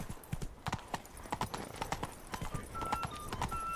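Horse hooves clip-clop in a steady, repeated rhythm inside a video game, close and fairly clear, with faint background tones and no speech over them.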